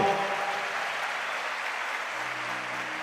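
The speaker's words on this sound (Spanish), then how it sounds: "Aplauso para el Señor." Steady applause from a church congregation fills the whole stretch, a dense even clatter of clapping with no voices over it.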